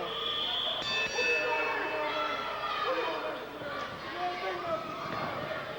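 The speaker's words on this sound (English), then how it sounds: "Ring the bell." A wrestling ring bell rings repeatedly with metallic dings over a noisy arena, while a commentator talks and the crowd murmurs.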